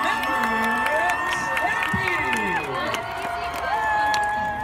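A large audience at the Western Slope Regional Marching Band competition cheers and applauds for the Colorado Mesa University band, a steady roar of clapping and whoops with an announcer's voice over it.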